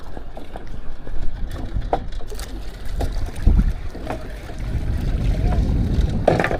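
A boat moves on a river with an engine-like rumble and wind buffeting the microphone, waves washing and splashing alongside.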